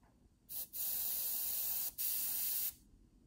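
Airbrush spraying Tamiya LP70 lacquer paint with the color cup removed, giving steady close hissing bursts: a short puff, then two long sustained sprays separated by brief pauses.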